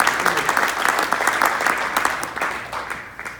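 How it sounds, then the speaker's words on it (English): An audience at a broadcasters' induction ceremony applauds with a dense, loud burst of clapping that holds steady and then gradually thins out. "You're supposed to applaud."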